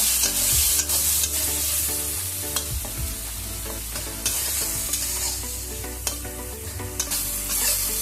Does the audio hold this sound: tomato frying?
yes